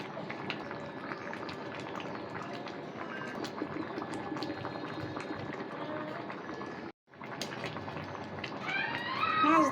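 Rohu fish pieces going into a simmering potol and potato curry, the pan bubbling and sizzling steadily for several seconds, a brief gap, then louder hissing as the fish lands in the hot gravy.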